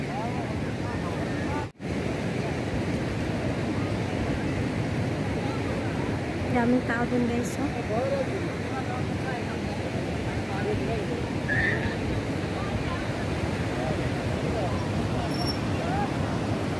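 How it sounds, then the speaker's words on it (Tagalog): Strong ocean waves breaking on a beach in Oman, a loud, continuous roar of surf mixed with heavy wind buffeting the microphone, with a few voices of people talking nearby. "Pero malakas yung alon."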